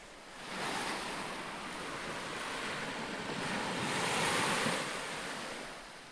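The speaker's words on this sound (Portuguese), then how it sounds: "Só se ouvia o barulho do mar." Sea waves wash onto a sandy beach in a broad, continuous surf roar that swells and recedes twice, moderately loud with a touch of wind and no voices.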